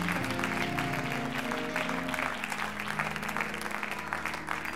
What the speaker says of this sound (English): Let's clap our hands unto the Lord as our pastor comes this evening.